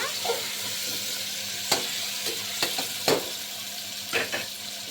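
Dondakai (ivy gourd) curry with masala, coconut, dried red chillies and peanuts stirred in an oily frying pan, a steady sizzle broken by several sharp scraping clicks of the spoon, close and without talk.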